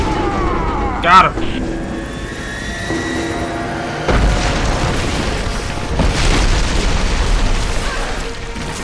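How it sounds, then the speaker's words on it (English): A trebuchet shot hits and explodes in the video game Rise of the Tomb Raider, giving a deep booming blast with a long rumbling tail over the game's sound and music. A voice speaks briefly near the start. "Got to signal Sophia to fire that trebuchet."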